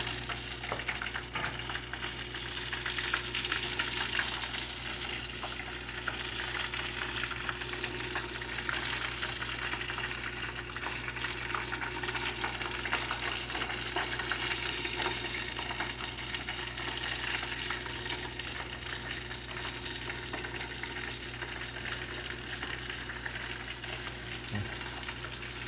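Mushrooms frying in hot oil give a dense, steady sizzle and crackle that runs unbroken throughout, close and fairly loud, with no talk.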